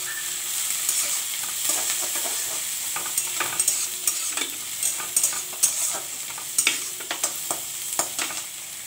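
Onion, garlic, green chilli and black cumin fry in a pan while a spatula stirs them, with a soft sizzle under repeated scraping strokes.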